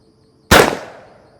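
A single sharp blast from a Henry lever-action .410 shotgun loaded with Federal handgun buckshot, loud and close, its report decaying quickly into a short tail with no talk.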